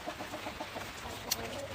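A rooster makes a soft, repeated low clucking call to bring hens to food, over steady background noise, with a brief sharper chirp near the end.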